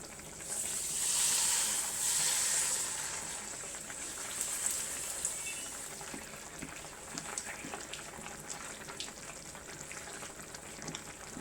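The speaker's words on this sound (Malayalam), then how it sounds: "നമുക്ക് പപ്പടം വറുക്കാവേ. എണ്ണ ചൂടായിട്ടുണ്ട്." Papadam fries in hot oil in a pan, a loud bright hiss and crackle rising in the first few seconds, then settling into a fainter, steady sizzle with scattered pops, no voices.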